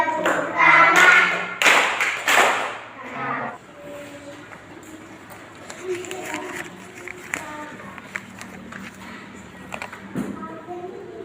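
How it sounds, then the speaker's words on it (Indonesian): Children in a classroom clap their hands along to a song, with sung voices at the start and then scattered, irregular claps that grow quieter and sparser. "Kalau kau suka hati tepuk tangan."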